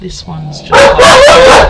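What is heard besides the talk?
dogs barking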